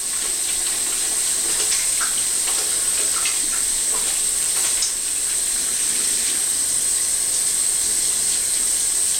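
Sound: washing hands under running tap water

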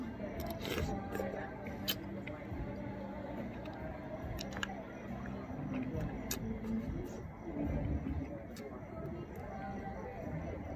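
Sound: eating chicken feet

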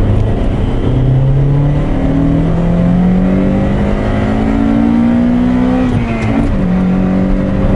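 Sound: Honda CRX 1.6i VTEC (1991) engine accelerating

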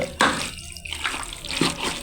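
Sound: boiled water poured into chicken curry pot

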